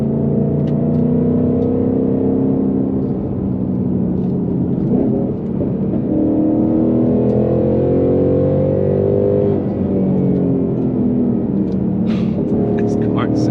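A 2021 Ford Mustang Mach 1 V8 pulls and revs steadily while driving, a continuous loud engine drone heard from inside the cabin with slight rises and dips.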